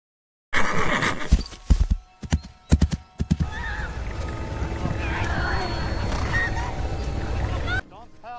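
A horse in a World War I film neighs and is ridden uphill, a few sharp whinny bursts and hoof clops at first, then a steady rumbling bed of hooves and ambient noise, loud and close.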